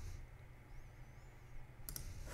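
A computer mouse clicks once or twice in quick succession near the end, faint clicks over a steady low room hum.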